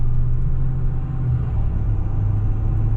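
A Ford Super Duty truck engine pulling in second gear under light throttle, heard as a steady, deep, close rumble with no clear rise in pitch.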